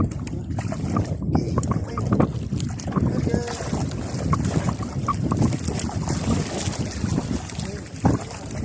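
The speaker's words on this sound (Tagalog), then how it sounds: "Malakas yung hangin." Strong wind roars and buffets the microphone steadily throughout while fishing from a boat, with water and boat noises mixed in and occasional voices underneath.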